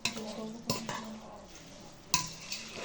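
Spoon stirring food in a pot in a home kitchen, soft scraping with a few sharp clinks against the pot, faint and close, with occasional voices.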